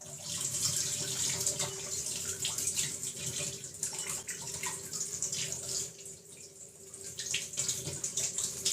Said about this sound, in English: Take some hot water, rinse it over the package.